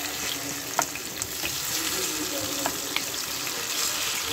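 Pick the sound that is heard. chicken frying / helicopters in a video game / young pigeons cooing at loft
chicken frying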